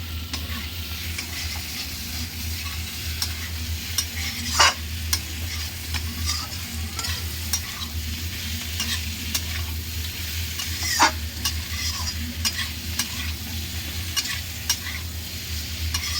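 A steady close frying hiss continues as spice paste is cooked down with pointed gourd and prawns in a pan. Occasional sharper scrapes from stirring stand out against the constant sizzle, with no talking.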